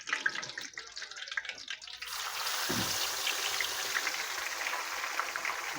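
A skinned crappie drops into hot grease in a frying pan: a quick splash, then a loud, close, steady sizzle that fills the rest of the clip.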